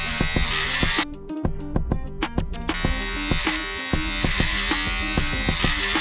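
Electric hair clipper buzzing steadily and loudly at close range while cutting a men's fade haircut in a barber salon, with brief dips in the drone as the blade moves.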